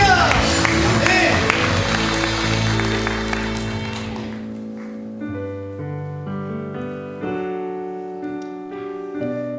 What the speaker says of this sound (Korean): 우리 하나님께 영광의 박수 드리겠습니다